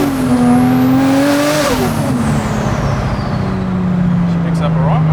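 Nissan Silvia fitted with an RB26 GT-R engine accelerating hard, a loud rising engine note that climbs, drops at a gear change and pulls up again, with faint tire noise near the end.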